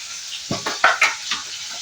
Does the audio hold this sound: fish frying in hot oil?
yes